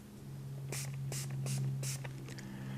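A Flitz tactical matte finish cleaner is sprayed onto a knife in four short, even bursts of nearby spray, each separated by a brief pause, over a steady low hum.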